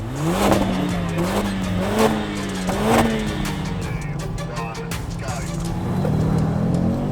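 An Audi RS3 Sportback and a Mercedes-AMG A45S, both 400bhp four-wheel-drive hot hatches, launch hard off the line, engines revving up through rising pitch sweeps with quick gear changes, heard from inside the car under a voice.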